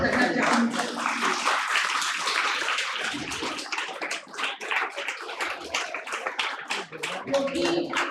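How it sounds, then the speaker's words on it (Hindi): Loud audience applause fills a Hindi literature festival panel discussion hall, dense clapping sustained throughout with a few brief dips, close and continuous with no one speaking over it. "मैं सभी श्रोता एक बार जोरदार तालियों से स्वागत करना चाहूँगी"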